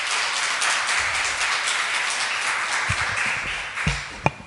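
Church congregation applauding a choir during a Sunday service, a steady broadband patter of many hands across the hall, ending in a few louder separate claps.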